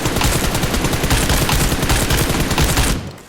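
Automatic gunfire sprays bullets in the PUBG Mobile video game: a loud, close burst of rapid shots runs continuously for almost three seconds, then cuts off abruptly.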